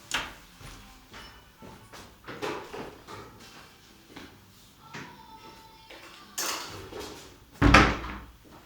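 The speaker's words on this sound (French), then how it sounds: "il faut juste que je ferme la porte pour pas être gêné par le bruit" An indoor door is shut amid shuffling and small knocks and bumps, ending in a sharp, loud thud of the door closing near the end; close and fairly quiet otherwise.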